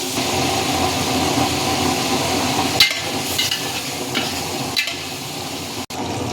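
Pork for pakbet fries in a pan with a dense, continuous sizzle. A few sharper scrapes or clacks of stirring punctuate it, and a short dropout comes near the end.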